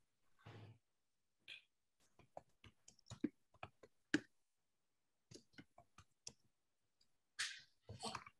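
Keyboard typing during a gallery talk and thesis defense, a quiet, irregular scatter of sharp key clicks in short bursts, with a few breathy or rustling sounds between them.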